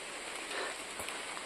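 Rain falls steadily through a dense forest along a narrow path on the way to Nagdwari, a soft, even hiss with no voices.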